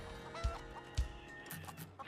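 Chickens on a small homestead farm clucking and squawking at close range, with two louder low bursts and scattered calls over a steady background of animal noise.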